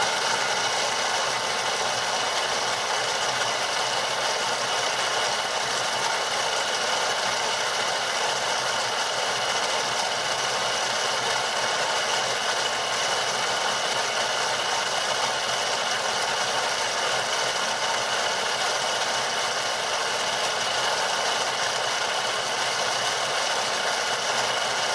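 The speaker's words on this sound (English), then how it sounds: "I'm going to measure the RPM of the stock motors on the track." The stock electric motor of an RC battle tank spins its track in a steady, unbroken high-pitched whine with a faint rattle, constant in loudness and close throughout, with no talk.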